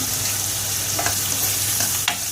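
Onions fry in a pan on the way to golden brown, a steady close sizzle with a few brief scraping stirs near the end.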